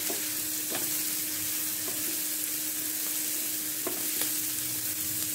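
Vegetables for a grilled sandwich being stirred and mixed with red chili powder in a pan, a steady soft sizzle with a few sharp scraping clicks of the utensil, close and without any talk.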